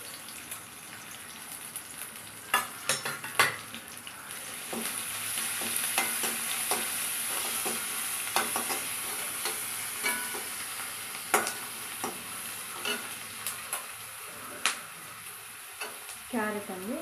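Onions, curry leaves and green chillies fry in oil in a pan, a soft continuous sizzle broken by repeated scraping stirs and clinks of a spoon, with no voice.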